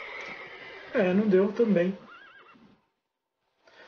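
A horse neighs loudly in The Witcher 3, a strong whinny up close, followed by a fainter trailing call. Someone speaks briefly over the start of the sound.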